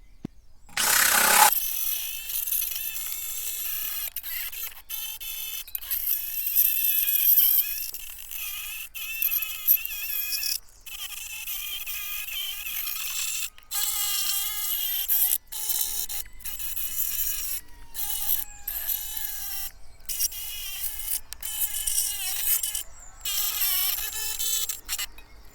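A coarse, thick spiral-bound wire brush on a power tool scours rust from the wheel arch of a Mk1 Skoda Fabia, a steady high-pitched whirring grind that runs almost continuously with brief pauses, loud and close.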